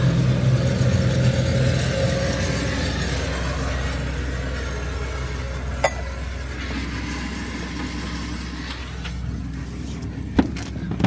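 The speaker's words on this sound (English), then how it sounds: "There's a tractor." A tractor's heavy engine rumbles steadily at a distance, a low diesel drone with a few sharp knocks and clanks, no speech.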